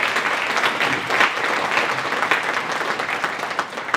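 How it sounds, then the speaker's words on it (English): Sustained applause from an audience at an elementary school wind ensemble concert, steady dense clapping for the full stretch with no talk over it. "please give Mr. Tom Peters a round of applause"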